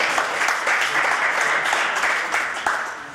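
An audience applauds steadily at a Martyrs Day event in Doda honouring Bhagat Singh, Rajguru and Sukhdev. Dense, close clapping runs throughout at an even level and fades slightly toward the end.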